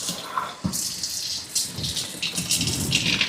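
Water sprays from a kitchen sink tap set to a second spray mode, hissing and splashing into the sink in uneven surges, with a few thuds and clatters in between.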